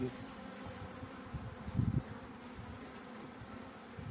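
Honey bees hum at an opened beehive, a steady low buzzing that is soft and continuous, swelling briefly midway as a bee passes close.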